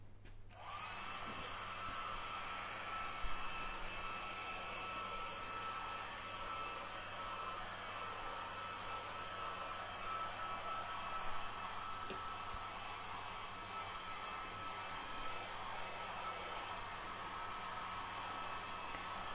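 A hair dryer blowing hot air to dry paint on a corner of a painting gives off a steady, loud whoosh with a constant motor hum that runs unbroken for the whole stretch, close up and alone.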